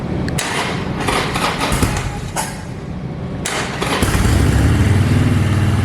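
A fuel-injected 2016 Harley-Davidson Sportster Seventy-Two XL1200V with a V-twin Evolution engine cranks and fires on a cold start, catching with a loud burst near the four-second mark and settling into a rough, loping idle.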